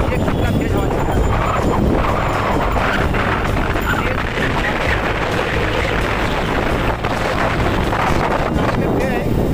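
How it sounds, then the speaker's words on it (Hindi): Strong wind buffets the microphone at Arnala beach, a loud, constant roaring rumble filling the whole stretch, with speech faintly buried beneath it. "और आप एक कितना तेज हवा चल रहा"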